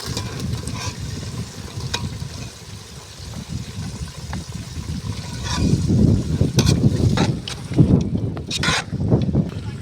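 Curry leaves and finely chopped onion frying in oil for a Kannada-style tempering: a steady close sizzle and crackle, swelling louder with bursts of spattering and stirring toward the end, no talk.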